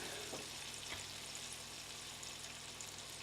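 Butter and olive oil heating together in a pan, giving a quiet, even hiss of faint sizzling that holds steady throughout.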